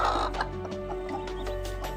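A native village hen sitting over newly hatched chicks clucks repeatedly in short, close bursts, with a busy, steady background of other fowl.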